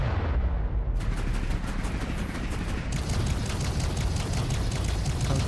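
Enemy fire in the space combat game Fractured Space, a dense, continuous barrage of rapid-fire cannon bursts and booming impacts, loud and relentless, with a faster rattling volley starting partway through and no talking.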